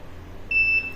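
A single high electronic beep from an Arduino buzzer sounds halfway through and holds steady for about half a second over a faint background hum.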